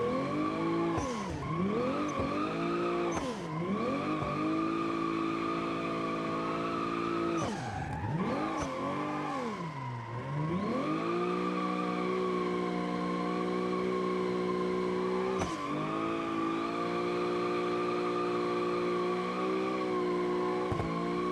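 Tires squeal in a drifting car in the BeamNG driving game, sustained engine tone with pitch swoops as the car slides and recovers, loud and continuous throughout with no talking.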